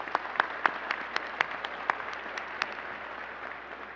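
Applause for military service members at an exhibit opening ceremony, a modest scattering of hands with distinct sharp claps standing out early, gradually thinning and fading over a few seconds.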